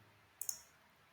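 A computer mouse clicks twice in quick succession during desktop spreadsheet work, two crisp, close-spaced clicks that are faint and alone over a low steady room hum.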